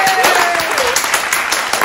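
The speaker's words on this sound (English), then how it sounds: "I expect more clapping." A studio audience at a comedy talk show claps in a brief, steady burst of applause with a voice talking over it.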